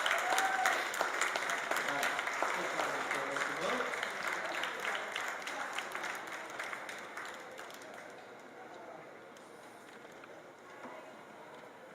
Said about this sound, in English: let's give another round of applause to both teams up on the podium